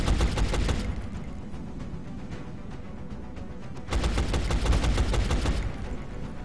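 Suppressive automatic fire in XCOM: Long War: two long, loud bursts of rapid rattling shots, separated by a quieter stretch of lingering battle noise.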